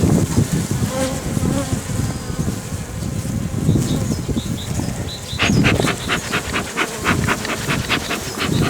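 Close, steady buzzing of many honeybees at an opened hive, with rhythmic puffing from a bee smoker in the second half.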